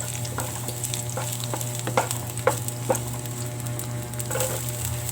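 Minced garlic and onions sizzle in a pan while being stirred for corned beef with diced potato. A steady frying hiss is broken by several sharp spatula clicks against the pan, with no talking.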